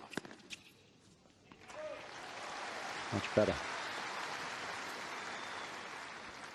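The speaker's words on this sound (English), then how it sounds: "you can sense the crowd too are wanting a bit more of a contest here, applauding big serves" A tennis crowd at the 2009 Australian Open semifinal between Federer and Roddick breaks into steady, broad applause after a big serve. The clapping swells and holds, with a brief spoken remark just before it starts.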